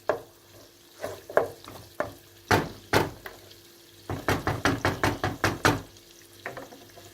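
Pepper paste being stirred in a cooking pot with a spoon, a string of sharp scraping knocks in bursts, a quick rapid run near the end, close and fairly loud with no voices.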